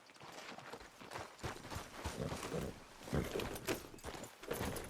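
Horse hooves clip-clop softly in Red Dead Redemption 2, a quiet, uneven run of hoof strikes continuing steadily throughout with some rustling, and no talk over it.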